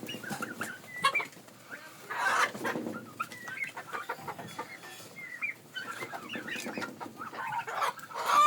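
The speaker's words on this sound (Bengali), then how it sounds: "তো এখানে টার্কি মুরগি বেশি। তো খাবার খরচ কমাতে আমরা টার্কি মুরগিকে এভাবে পাতাকপি বেঁধে দিয়েছি দেখুন।" Turkeys and farm chickens cluck steadily at close range while pecking at a bundle of cabbage leaves tied up for them, with overlapping calls and soft scratching and no talk.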